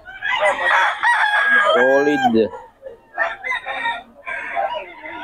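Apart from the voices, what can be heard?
roosters crowing at a market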